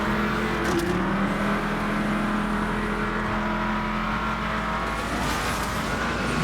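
Engine of the Spano sports car in the Asphalt 9 racing game on Android, a loud continuous roar with sustained revving and no pauses.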